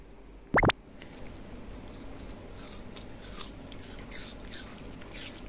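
A toy poodle bites into a piece of pear, with one sharp, loud crunch near the start followed by quieter, faint chewing sounds.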